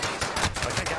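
Rapid bursts of pistol gunfire from a video game, several sharp shots in an uneven rhythm, loud and close and filling the moment.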